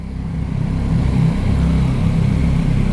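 A 2021 Yamaha MT-09 motorcycle with its stock exhaust revs with a deep, loud, continuous engine rumble heard up close, rising slightly in the first half second and then holding steady.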